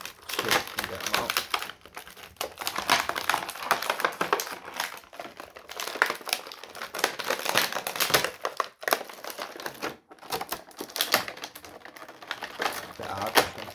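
Plastic blister packaging crinkles and crackles almost continuously as a WWE Elite Series 77 Fiend action figure is unboxed and its accessories are pulled free, close and busy, with someone talking over it.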